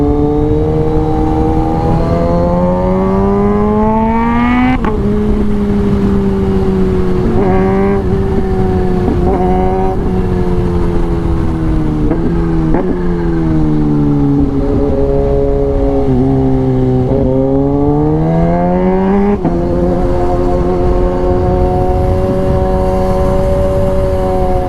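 A Suzuki Raider Fi motorcycle engine hums steadily on an open road during a ride, loud and close, with its pitch rising and falling through repeated revs and gear changes.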